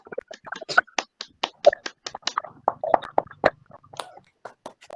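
A class of schoolchildren claps hands together during an Indonesian teaching session, a burst of sharp, scattered claps that starts dense and gradually thins out into a few irregular last claps.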